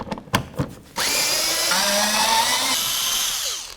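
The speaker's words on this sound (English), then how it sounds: "We're going to use our 8 millimeter, remove this bolt and this bolt." An 8 mm bolt being run out of the lower bumper cover of a 2009–2016 Mercedes-Benz E350 with a power driver, a few clicks and knocks followed by a loud, close, steady whirring buzz lasting several seconds.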